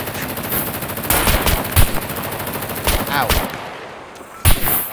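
Rapid video game gunfire, bursts of machine-gun shots and single cracks over a dense background of game effects, with players talking and a brief exclamation in between.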